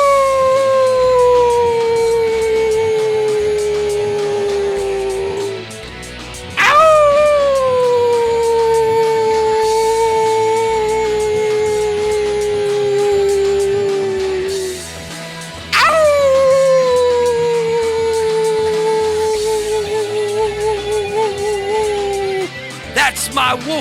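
Several people take turns imitating wolf howls on a live talk show, long sliding wails that fall in pitch and repeat in three loud waves over steady background noise, with a few short yelps near the end.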